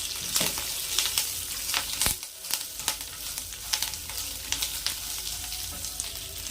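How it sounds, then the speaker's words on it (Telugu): Curry leaves fry in a pan for curry leaf rice, giving a steady close crackling sizzle with sharp pops and spits scattered throughout and one loud burst partway in. "నేను ఒక చిన్న బౌల్ కరివేపాకు తీసి వేస్తున్నాను ఇది కూడా బాగా వేయించుకోవాలి"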